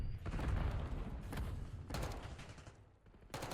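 A grenade goes off in a competitive Call of Duty match, a loud low rumbling blast in the first second or so, surrounded by steady rattling gunfire that continues throughout.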